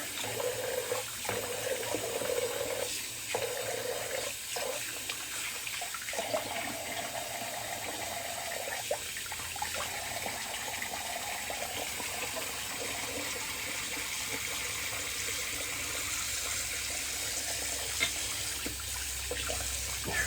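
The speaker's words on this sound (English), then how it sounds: "Get rid of some of this hairy water." Water running and draining in a bathroom sink while rinsing hair-filled shaving water during a wet shave, a steady close splashing flow that continues for the whole stretch with small gurgles and clatters.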